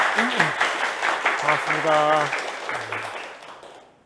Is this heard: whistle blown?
no